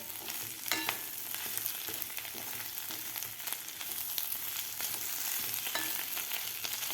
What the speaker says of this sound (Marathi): तर यामध्ये आता आपण उकडून घेतलेल्या बटाट्याच्या फोडी घालून घेऊया व्यवस्थित आपल्याला हलवून घ्यायचं आहे